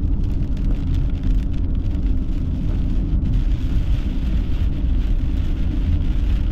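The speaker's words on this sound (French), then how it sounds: "Oh, il y a de la grêle dedans." Small hail falls during a thunderstorm, a dense, steady patter and hiss of pellets striking surfaces, loud and continuous over a low rumble without a break.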